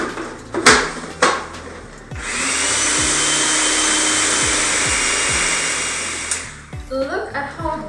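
A food processor grinds peanuts into homemade peanut butter, a loud steady whirring drone that runs for about four seconds after a few clunks and knocks, with brief clattering and handling noises as it stops.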